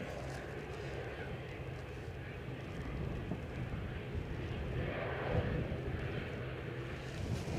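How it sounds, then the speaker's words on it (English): A Cessna 680A Citation business jet, three years old, takes off from Edinburgh, its engines a steady broad roar that builds slightly over several seconds, heard from a distance without talk. "Off to Bournemouth, a Cessna 680A Citation"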